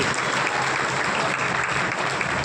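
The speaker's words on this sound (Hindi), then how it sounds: "आप जोरदार तालियां बजाइए।" A large crowd claps loudly and steadily at an honor ceremony in Pilkhva, where guests are paying tribute to their parents. The dense applause fills the whole stretch without a break.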